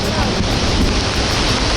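The roar of Iguazu Falls at the Devil's Throat in Brazil, heard from the walkway bridge, forms a dense, steady rushing wall of water noise with wind buffeting, loud and unbroken throughout.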